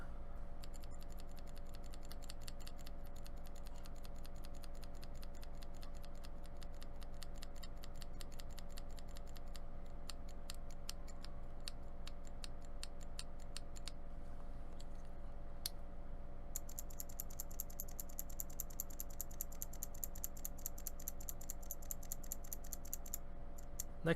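Fingers type on a mechanical keyboard fitted with an inexpensive $19 Amazon keycap set, a quiet, fast run of close clicky keystrokes in bursts with brief pauses, over a faint steady hum.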